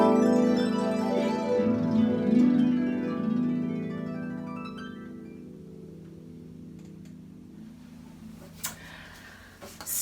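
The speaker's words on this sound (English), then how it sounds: "I make the sound by dragging my fingertips across the strings." Harp glissando made by dragging fingertips across the strings, a shimmering sweep of rising notes that rings out and slowly decays into quiet, with a few faint knocks near the end and no talking.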